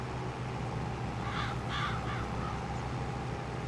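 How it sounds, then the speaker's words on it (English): Crows cawing in a farming video game set on an Australian station, a few raspy caws in a short burst near the middle over a steady low engine-like drone, with no talk. "Stone that flaming crows, mate."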